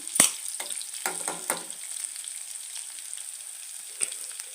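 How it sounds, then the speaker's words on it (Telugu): Chickpeas frying in a pan crackle with a bright, high sizzle, punctuated by several quick stirring clatters early on and one more sharp tap toward the end. "ఫ్రై అయిపోయిందండి శనగలు వేసేసుకున్నాము"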